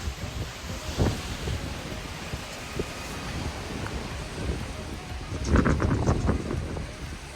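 Strong wind at White Sands buffets the microphone with a constant roar and gusty rumbling, with debris flying, swelling louder near the end, with no talking.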